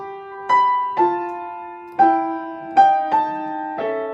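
Piano bass line played in thirds, six separate struck notes in a loose, halting rhythm, each ringing and decaying cleanly, close and alone.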